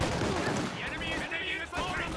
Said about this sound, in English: Bringing in the incendiary artillery on these